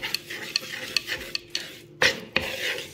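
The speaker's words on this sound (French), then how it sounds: "Donc je rajoute un peu de miel et je mélange le tout." A honey and garlic marinade for oven-baked pork ribs is stirred with a utensil in a bowl, making quick rhythmic scraping and tapping strokes roughly twice a second, close and steady.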